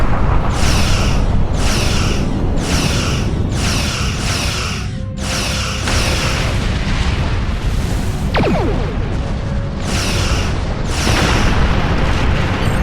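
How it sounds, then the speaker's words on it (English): Heavy repeated booms in a space combat game as torpedoes strike an enemy ship, loud pulsing blasts at a steady rhythm over a constant rumbling roar, with no talk. "Use your torpedoes on an enemy."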